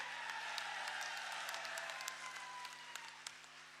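Faint, distant applause from a crowd at an outdoor political rally, scattered hand claps spread over a low steady hum.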